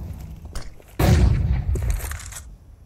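A barrage of grenade blasts in a Counter-Strike 2 match on Inferno, with a sharp onset and dense booming bursts piling up over about two seconds, loud and close, without speech.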